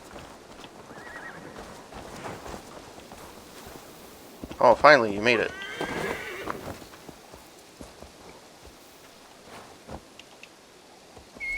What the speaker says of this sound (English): I hear the footsteps of my horse.